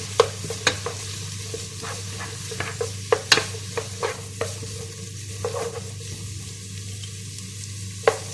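Four medium onions sauté in hot oil for palak chicken. A constant sizzle runs underneath while a spatula scrapes and taps the pan in irregular, close strokes.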